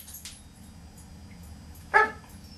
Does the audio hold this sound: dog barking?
yes